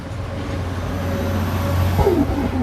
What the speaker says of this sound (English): That's what the buses sound like here.